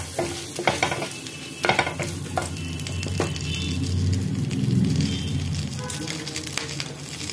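Bay leaf, whole garam masala, dried chillies and peppercorns frying in a new frying pan, with a steady sizzle, scraping stirs and spoon knocks near the start, no speech.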